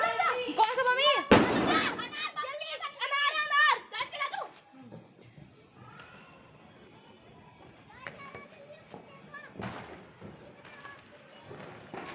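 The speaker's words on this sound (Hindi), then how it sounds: "हमें ऊपर छोड़ने हैं बहुत सारे पटाखे" Firecrackers and rockets set off by neighbours during a festival in India: sharp loud bursts near the start and again later, mixed with children's excited voices and shouting, fading to quieter background noise between blasts.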